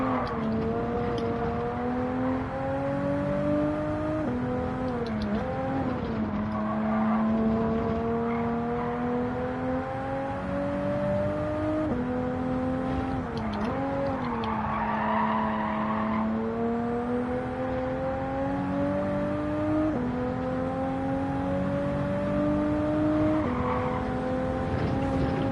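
A Toyota Supra race car in Gran Turismo 7 drones through the gears, its engine note climbing and dropping repeatedly across several shifts, with brief tire squeals in between and no talking.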